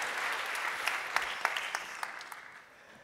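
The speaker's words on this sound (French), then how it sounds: "Vous pouvez applaudir." An audience applauds at a school orchestra concert, dense clapping with a few sharp louder claps standing out, gradually thinning and fading toward the end.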